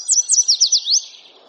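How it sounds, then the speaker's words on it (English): Yellow warbler song: a quick series of about six bright, high, sweet whistled notes in a rising-falling rhythm, ending in a slurred phrase, clear and close with no other sound. "The yellow warbler, which says,"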